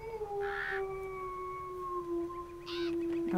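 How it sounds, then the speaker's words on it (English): Coyotes in the wolf video game WolfQuest howl in long, drawn-out wavering tones that rise and fall, several voices overlapping with a couple of brief yipping bursts, heard at moderate distance. "I think I heard coyotes."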